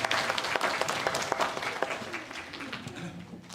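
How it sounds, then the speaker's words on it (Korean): A church congregation at a Sunday worship service claps together, with scattered distinct claps near the front that thin out and fade toward the end. "우리 주님께 다시 한번 영광의 박수 힘차게 올려드리고 하겠습니다"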